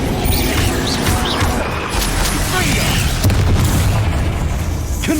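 Spell impacts during combat in Hogwarts Legacy: repeated deep booming blasts with crashing, popping debris over a rumbling low-end bed, loud and dense, with a voice cast among the effects.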